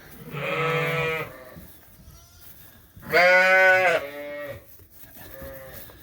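Ewes and lambs bleat in a lambing barn, three distinct calls, the middle one loudest and closest, with quiet barn background between them.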